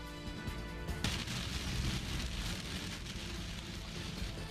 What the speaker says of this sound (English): Storms with thunder, lots of lightning, and high winds pass through Charlotte.